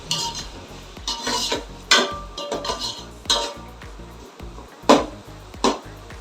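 Ginger, garlic, green chilli, coriander and mint being sautéed in a pan for ghee rice, with a metal spoon scraping and clinking against the pan in repeated bursts, close and fairly loud, with no talking.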